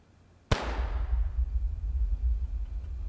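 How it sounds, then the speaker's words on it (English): A single gunshot in an indie horror video game: one sharp, loud crack followed by a long rumbling low tail that lingers for several seconds, with no talk. "Gunshots."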